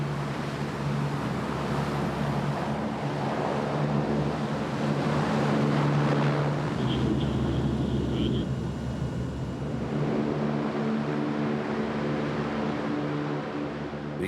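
LCAC military hovercraft driven by four 4,000-horsepower gas turbine engines, a loud sustained roar and whine with a deep droning hum, swelling slightly mid-way and steady throughout.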